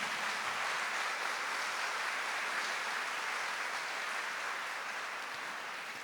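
A church congregation applauds during a Catholic service, a soft, distant and uniform wash of clapping that holds steady for several seconds and fades slightly at the end.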